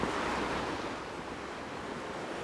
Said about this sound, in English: Yet another beautiful rocky beach.